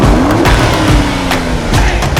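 A remapped Alfa Romeo Giulia Quadrifoglio with a 2.9 V6 bi-turbo tuned past 500 hp drives close by, its loud, steady engine roar blending with tire and road noise throughout.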